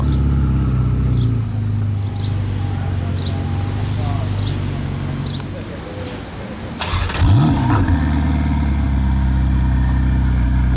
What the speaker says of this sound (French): Petite marche arrière dynamique en F8 Spider.